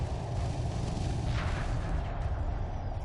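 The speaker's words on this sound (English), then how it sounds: "So the bombers are actually trying to take out this." Bombers strike a target in the space strategy game Homeworld 2 Remastered, giving a low rumbling barrage of distant explosions and muffled blasts that rolls on steadily at modest volume with no talk.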